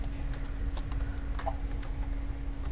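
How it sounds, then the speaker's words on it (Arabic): A few faint clicks from pressing the delete key on a computer keyboard, spaced irregularly over a steady low electrical hum. "وتدوس ديليت من الكيبورد"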